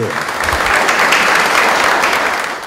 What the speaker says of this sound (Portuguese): Eu vou pedir uma salva de palmas para ela